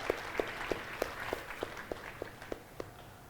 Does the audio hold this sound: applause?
yes